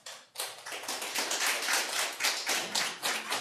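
Applause at a county Board of Supervisors public meeting rings out for a few seconds after a speaker urges rejecting a project, a dense, steady patter of many hands clapping at moderate volume with no talking over it.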